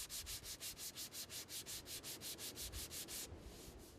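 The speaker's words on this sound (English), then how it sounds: "So I'm going to use a sanding machine with 80 grit paper on here" Sanding a fiberglass boat hull repair with a sanding machine and 80-grit abrasive paper gives a steady, fast rhythmic rasp pulsing about five times a second, fairly faint, and it cuts off near the end to leave a quieter hiss.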